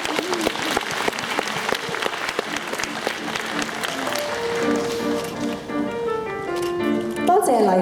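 A crowd claps steadily at a primary school graduation ceremony honouring award-winning students, the dense applause continuing as ringing tonal music rises toward the end.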